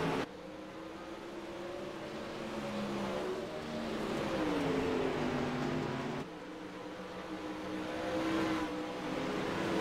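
Pro Late Model race cars battle for position on a racetrack, their engines droning and shifting pitch steadily, heard fairly faint and distant with no talk over them.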